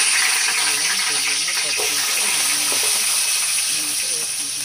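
Carrot and capsicum added to a hot frying pan while cooking pasta hiss and sizzle steadily and loudly throughout, close up, with a voice talking underneath.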